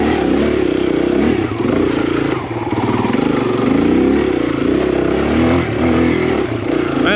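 Kawasaki KLX140R dirt bike climbing a hill, its engine revving loud and close in a steady, continuous drone with slight surges and some clatter.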